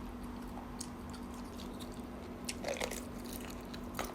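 Someone biting into and chewing a large grilled squid, close and quiet, with moist squishy chews and a few crunchy bites over a faint steady hum.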